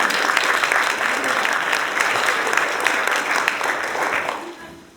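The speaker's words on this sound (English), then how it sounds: "So please give a round of applause to Thomas Hanke from the Universität." At a round-table scientific discussion on molecular biology and physics, an audience claps steadily for several seconds, a dense, even wash of applause that thins and fades toward the end.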